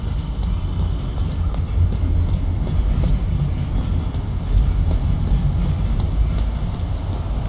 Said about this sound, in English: Can I get killed by a train?